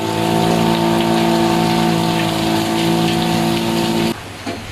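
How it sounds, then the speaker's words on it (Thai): Steady, dense rain pours down with a constant hiss and a mechanical hum underneath, then abruptly drops away near the end. "ฝนฟ้าไม่กลัวอยู่แล้วใช่ไหมพี่โจ"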